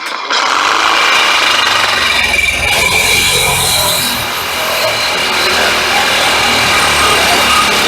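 A power tool cuts into a motorhome bumper, a loud, continuous grinding and rasping roar that holds steady with slight dips, close and unbroken throughout.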